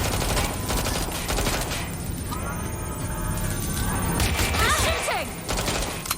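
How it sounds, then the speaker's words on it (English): Video game gunfire rattles in rapid, repeated bursts from start to finish, mixed with crashes and a busy, dense game soundscape at moderate loudness. "Shooting!"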